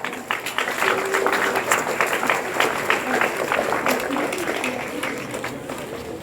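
A classroom group applauds a correct answer in an Indonesian language lesson; loud, busy clapping runs throughout with voices mixed in beneath.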